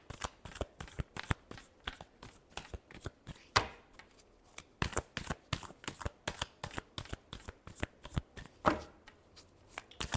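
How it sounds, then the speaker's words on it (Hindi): Tarot cards are shuffled repeatedly in a steady rhythm of sharp, papery slaps and riffles, close and quiet, with no talking. "Last shuffle."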